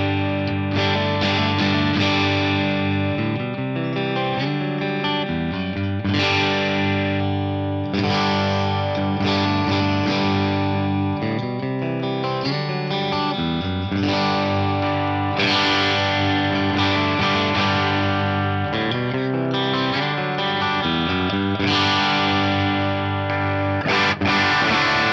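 Semi-hollow PRS SE Custom 24 electric guitar with piezo pickup, played through distortion, chorus and other effects: sustained chords and riffs ringing loud and continuous throughout, no talking.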